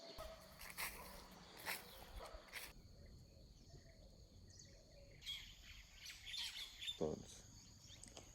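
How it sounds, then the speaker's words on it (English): A sparrow chirps outdoors near a tea stall, several short squawking calls scattered over insect buzz and faint background voices, fairly quiet. "Sparrow."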